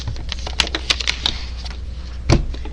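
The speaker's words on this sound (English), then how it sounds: "Let me grab my calculator. I'm going to type in -40." Fingers press the buttons of a calculator keypad to enter numbers, giving a string of quick, light clicks and one firmer tap near the end, close and clear in a quiet room.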